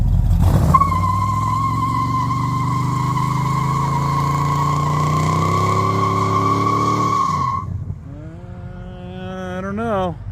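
A 1968 Charger with a 6-liter engine revs hard and accelerates in first gear, its loud steady engine roar sustained for several seconds before dropping off, then a rising rev climbs again near the end.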